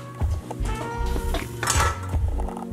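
Boiled potatoes strained in a metal pot, with a run of loud clanks and scrapes of metal against metal, uneven and close, and a brief splashy burst near the middle.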